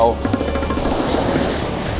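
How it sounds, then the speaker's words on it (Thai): Strong wind buffets the microphone on Bang Saen beach in the morning, with rough sea waves washing in beneath the loud, constant roar and a voice faintly present at the start. "ลมกับคลื่นแรงมากดีนะครับ"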